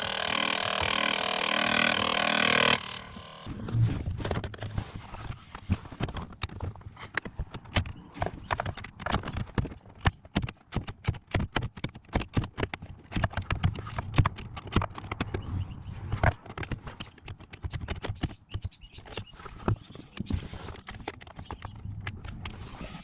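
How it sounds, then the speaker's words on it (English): Irregular clicking and knocking from a faulty blend door actuator motor behind the dash of a Ford Territory SZ, a rapid, uneven rattle of close clicks that keeps going for about twenty seconds, starting after a brief burst of other sound. "I found the source of this horrible noise, the clicking noise"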